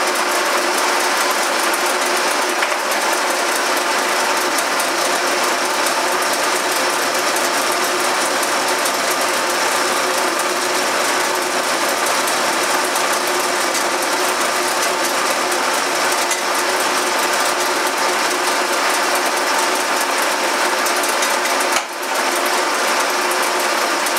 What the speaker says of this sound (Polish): Najpierw przejeżdżam frezarką położenie początkowe, później mocuję detal, naciskam, włączam obroty i później na posuwie będę frezował.